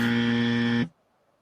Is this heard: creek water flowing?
no